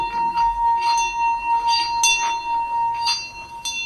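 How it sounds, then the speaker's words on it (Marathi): A singing bell rung as a daily morning practice gives a steady, sustained metallic hum. Light strikes sound roughly every half second to second, close and clear, with no voices. "ही आहे सिंगिंग बेल."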